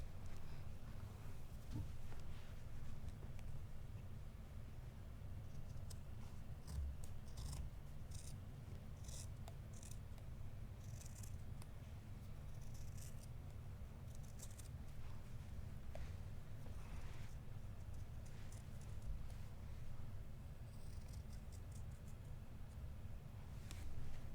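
Ordinary household scissors snip through a cotton T-shirt in a steady series of short crisp cuts, close and fairly quiet, repeating through the whole stretch with no talking.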